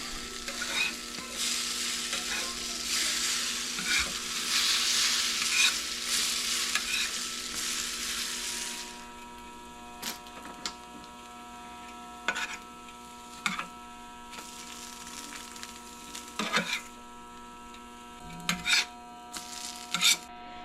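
French toast made from English muffins fries in butter, a loud, dense sizzle for about nine seconds that then drops to a quieter crackle broken by scattered sharp clicks and pops.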